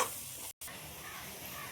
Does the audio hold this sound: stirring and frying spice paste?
yes